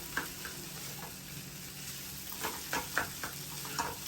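Farali potato vada filling with roasted cumin is stirred in a hot pan over low flame: a quiet steady sizzle with soft scraping and a few light taps of the spoon against the pan.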